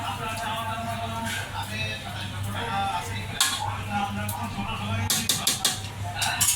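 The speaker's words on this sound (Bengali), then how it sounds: "আমি সবগুলো মিক্স করে নিব।" Ingredients are stirred together in a pot, with scattered metal clinks and scrapes of utensil against cookware over a steady low hum, fairly close and continuous throughout.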